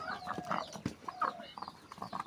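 Farm chickens, large healthy birds of about five to six kilograms, cluck and call in a brief, busy burst around feeding time, with several overlapping short calls close by.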